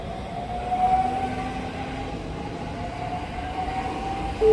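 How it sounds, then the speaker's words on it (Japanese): Steady rumble of a JR 223 series and 225 series rapid train departing Shin-Osaka station for Maibara, with faint high tonal whines, a continuous rolling drone that rises slightly near the start and end. "4番乗り場から快速京都ホーム米原行きが 発車します。"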